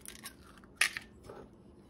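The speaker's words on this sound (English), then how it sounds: "I'm going to only crack them one at a time and then add them to the butter one at a time" Farm fresh eggs cracked one at a time into a bowl with butter, a single sharp crack standing out briefly against a quiet kitchen background.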